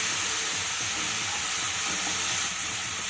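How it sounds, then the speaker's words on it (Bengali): Spice paste with green chilies and red chili powder fries in a pan, giving a loud, continuous close-up sizzle and hiss with faint stirring underneath. "মশলাটাকে একটু ভাজা ভাজা করে নিলাম"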